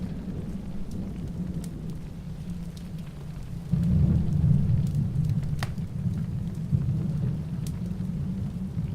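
In an adventure game, rain falls steadily with a soft, constant patter while a low thunder rumble rolls in partway through, fairly quiet and without voices.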